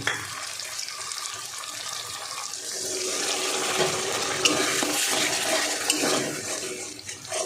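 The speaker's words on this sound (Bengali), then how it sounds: "বাটিটা ধুয়ে একটু জল দিয়ে দেবো" Running tap water splashing into a bowl as it is rinsed during home cooking, a continuous gushing wash that builds and holds steady, close and moderately loud with no speech.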